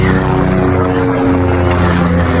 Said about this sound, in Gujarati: આ હેલિકોપ્ટર ગયો